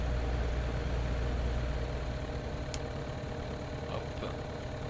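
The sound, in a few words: DR400-180 plane engine lining up on runway, video game FSX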